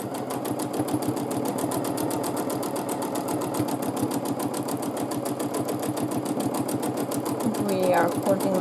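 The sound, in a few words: sewing machine free motion quilting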